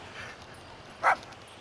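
A single short bark from a dog in Grand Theft Auto V, played as a dog attacking drug dealers while on peyote, a brief mid-loud burst over quiet background hum.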